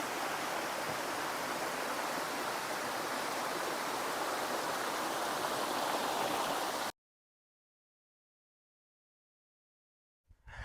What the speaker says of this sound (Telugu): మనకు ఎత్తైన కొండల మీద నుంచి వాటర్ అయితే రావడం జరుగుతుంది.